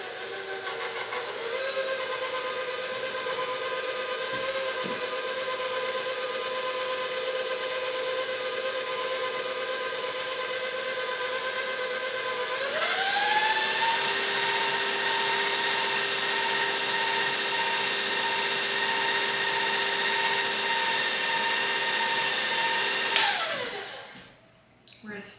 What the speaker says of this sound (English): Now we're going to whisk this together.